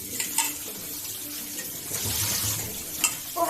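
Tap water runs steadily into a sink while washing during home cooking of a gram-flour chilli dish, a continuous close hiss with a few small clinks near the start and end.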